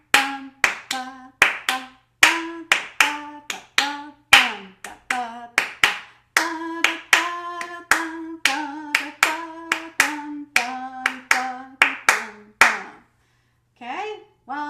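A steady, evenly counted rhythm of hand claps keeps going for about thirteen seconds. A voice sings pitched syllables along with the claps, and it briefly resumes after a short pause at the end.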